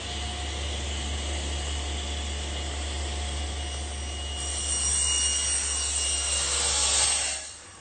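A table saw cuts a wooden panel using a plywood T-square panel cutter in a workshop, a steady loud whine of the blade through wood that swells near the end and then stops abruptly.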